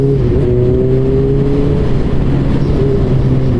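A Honda CBR 600RR sport motorcycle engine revs steadily at close range, its loud, continuous drone holding sustained tones with slight pitch shifts throughout.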